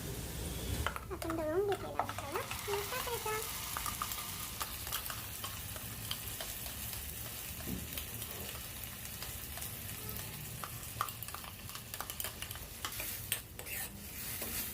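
Masala paste roasting and being stirred in a pan with fried onions for an egg masala fry, a steady close sizzle with scraping spatula strokes and occasional utensil clinks throughout.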